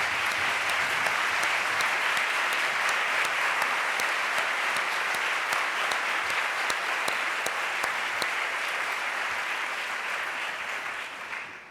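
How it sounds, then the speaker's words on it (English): Sustained, loud applause from a large audience at a prize announcement, even and unbroken for about eleven seconds before fading at the end. "give them a round of applause for all their hard work"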